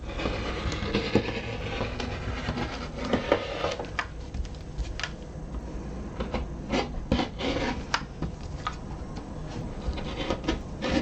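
Scissors rasp and snip through folded fabric on a sewing table for a Penny Inn pattern, steady close scraping cuts with sharp clicks over about eleven seconds, no talking.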